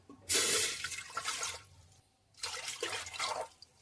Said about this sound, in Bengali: এবারে এরকম ছোট বাটির 2 বাটি জল দিয়ে দেবো।